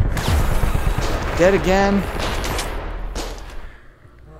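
Gun turrets fire in Zero Caliber VR, a rapid rattling of automatic shots through the first seconds, which fades toward the end. Someone speaks briefly over it.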